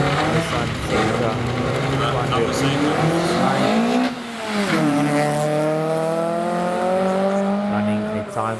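A 1996 Nissan Sentra race car at a hillclimb, its engine revving hard through rising gear pulls with a brief lift around a shift, loud and close, with faint tire noise.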